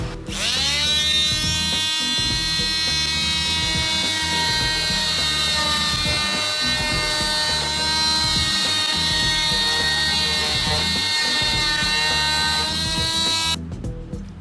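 An NRT Pro 3000HD oscillating multi-tool at speed setting 5 whines steadily at high speed for the whole stretch, a loud continuous buzzing hum with a bright harmonic edge, cutting off abruptly near the end.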